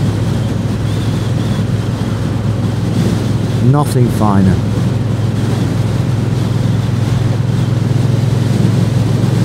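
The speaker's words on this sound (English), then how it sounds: "Nothing finer than riding a motorbike." A Triumph T120 motorcycle rides along the road, its engine a steady low drone mixed with rushing wind, while someone speaks briefly midway.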